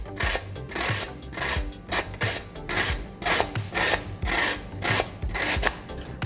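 Fresh cucumber rubbed up and down a kitchen grater, making a steady run of close rasping strokes at an even rhythm, no voices.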